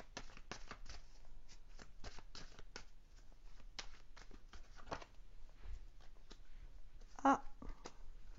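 Playing cards being shuffled and handled, a series of crisp riffling flicks and soft taps repeating steadily across several seconds, close and fairly quiet without any talk.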